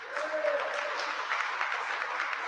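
Audience applause from a lecture crowd, a steady, moderately loud patter of many hands clapping for a couple of seconds, with a brief voice audible near the start.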